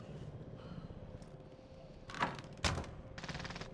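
MP40 machine gun fire in a first-person shooter game: a couple of sharp gunshot bursts followed by a short rattling volley, mid-distance over low game ambience.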